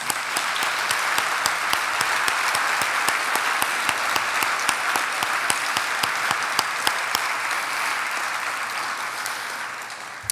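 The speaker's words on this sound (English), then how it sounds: "Can we have a round of applause for all of them" Sustained applause from a large crowd at a chamber of commerce leadership awards event, steady and loud throughout with dense clapping and a few sharper claps standing out.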